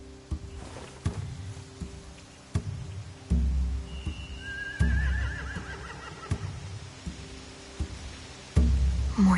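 Horses whinnying, with a high, wavering neigh standing out over a background of irregular thuds and clip-clop-like knocks, fairly close and clear, no talking.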